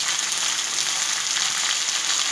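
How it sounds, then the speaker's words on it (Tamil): Drumstick pieces with onion masala are sautéed in oil for a drumstick fry, producing a continuous close, bright frying sizzle with light stirring and no speech. "இதில் வந்து இந்த மசாலா எல்லாம் எண்ணெயில் அப்படியே கோட்டாகிற மாதிரி நம்ம வதக்கணும்."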